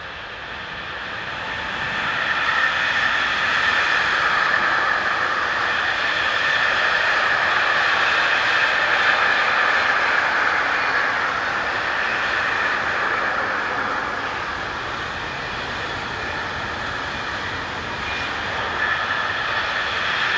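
A freight train hauled by electric locomotive 187301 rolls past on the German main line between Northeim and Hannover, giving a loud sustained rumble and a steady metallic wheel roar that swells and then eases over about twenty seconds, with no talking.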